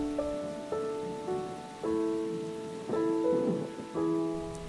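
Storm rain in a Bengali horror cartoon: a steady wash of rainfall runs throughout beneath sustained, ominous musical chords that swell in repeated waves.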